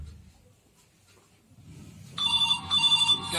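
After a quiet stretch with faint rustling, a mobile phone ringtone starts up suddenly, loud and close, with a repeating electronic pattern.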